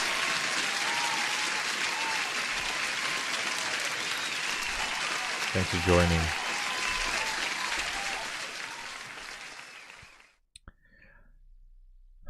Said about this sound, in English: one more applause to everyone